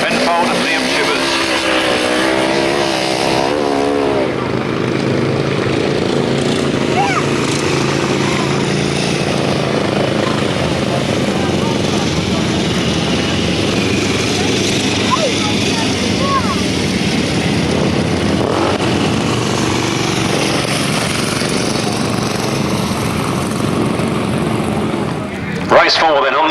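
Sidecar motorcycles on a grasstrack at Bodiam, 1991, droning steadily throughout at a loud, continuous level with layered engine tones, while a commentator's voice runs over the top.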